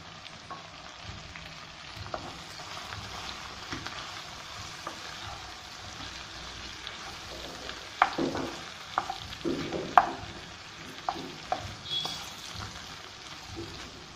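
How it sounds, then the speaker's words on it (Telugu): Okra frying in a pan gives a soft, steady sizzle, and a spoon or spatula scrapes and stirs it now and then, with a few sharper clinks near the end. "ఈ బెండకాయలు 1 నిమిషం ఫ్రై అయిన తర్వాత మనం దీంట్లో పసుపు కారం వేసేసుకుందాము."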